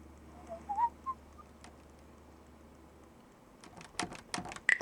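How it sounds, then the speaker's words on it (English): A short, faint rising whistle chirps twice near the start over quiet hum, followed by scattered clicks and taps, in the audio game Frequency Missing. "So we hear the whistle."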